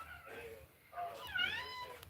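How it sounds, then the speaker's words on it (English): A cat meows twice close by, a short call followed by a longer, rising and falling one, with faint background noise. "It's the neighbor's cat."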